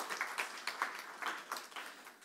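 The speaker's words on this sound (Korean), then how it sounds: "하나님께 감사의 박수 드리겠습니다" A church congregation applauds during a Sunday confirmation and baptism service, a soft, distant patter of many hands with faint rhythmic clusters swelling and fading throughout.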